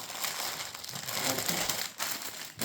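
A sheet of material is folded over and over with continuous crinkling and crushing rustle, close and fairly loud, with no talking.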